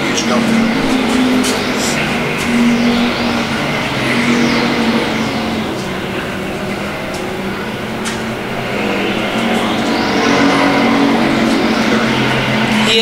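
Race cars roar around a dirt speedway oval, their engines droning continuously and loudly, with passing cars rising and falling in pitch while an announcer calls the race over the noise.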